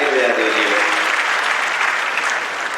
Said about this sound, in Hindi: आप सभी पूरे मंच के लिए जरा ताली बजा दीजिए एक बार, और एक बार अपने आप के लिए ताली बजा दीजिए।